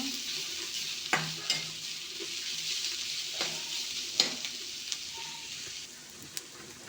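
Food fries in a pan until reddish, a low, steady sizzle broken by occasional scraping stirs and light clicks of a utensil, with no speech.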